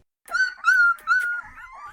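Border Collie puppies in a litter whimper and yip close by, with a few high whiny cries in quick succession and no talk.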